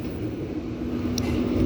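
A KRL commuter train in Indonesia rumbles past in a steady low drone, with a brief high metallic squeal partway through.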